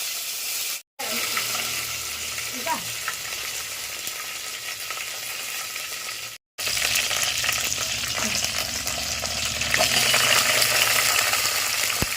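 Steady loud sizzling and crackling of spices frying in hot oil, continuous throughout with two brief cutoffs.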